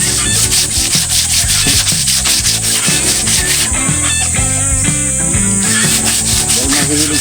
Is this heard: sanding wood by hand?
yes